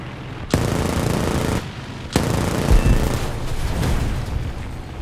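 Machine guns of an I-16 type 10 fighter plane fire in loud, sustained bursts in the War Thunder air combat game, with two sharp onsets and continuous rattling gunfire and booms filling the whole stretch.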